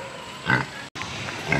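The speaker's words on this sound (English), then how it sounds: "this is a Julian pig or mini pig." Grunting from a Juliana or mini pig at a zoo in Rising Sun, Maryland: two short low snorting bursts about a second apart, close and moderately loud with no talk.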